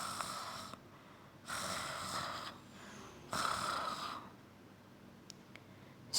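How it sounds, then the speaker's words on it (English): A person snoring: three slow, raspy inhaled snores spaced a couple of seconds apart, close and fairly quiet, with soft breathing between. "if someone snores, they make that sound"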